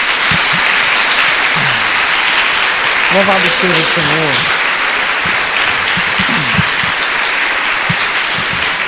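A church congregation applauds for Jesus, a steady wash of clapping running throughout while a voice speaks and sings briefly over it.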